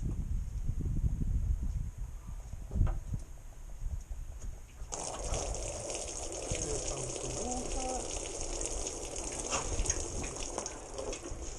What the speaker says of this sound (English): And there's the water just pouring out of the engine.